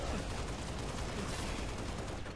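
Assault rifle fire in Halo: Reach rattles as a dense, continuous stream of rapid shots at a steady moderate level, with no gaps over a short stretch.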